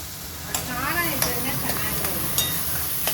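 Spicy green chillies sauté in a pan with steady close sizzling and periodic scraping stirs of a spoon, while a voice hums or murmurs faintly underneath.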